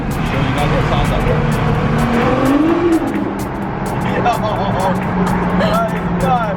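A Nissan GTR R35 with a custom exhaust drives through a tunnel, its loud booming engine and exhaust echoing continuously with rising and falling revs, while a voice talks over it.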